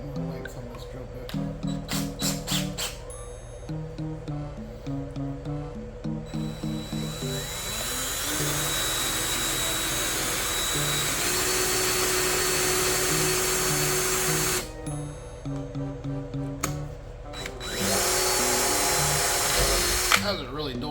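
A power drill bores into the wasteboard of an Onefinity CNC machine, first in short stuttering bursts, then in a long sustained whine, then more bursts.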